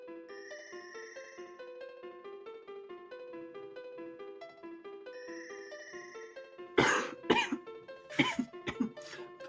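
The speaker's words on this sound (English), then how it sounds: "I have a weird cough happening" A cluster of several rough, close coughs and throat noises breaks in over soft, chiming video game music during a Final Fantasy IV Free Enterprise tournament broadcast.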